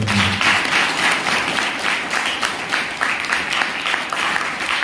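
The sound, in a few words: congregation clapping to praise God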